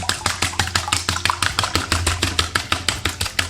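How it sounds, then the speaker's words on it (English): Eggs seasoned with salt and black pepper are whisked briskly in a bowl, a fast, even run of sharp taps from the whisk hitting the bowl, repeating about five times a second over a low background hum. "Now break the egg yolks and give this a good whisk."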